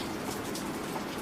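Steady rain patters on a patio outdoors, a dense continuous hiss of drops with no other sounds, moderately quiet throughout.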